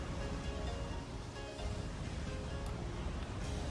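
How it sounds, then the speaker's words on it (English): Ocean waves from the video game Umineko When They Cry wash in a soft, continuous surf, faint and even, rolling without pause through the whole stretch. "You hear the waves, not the music."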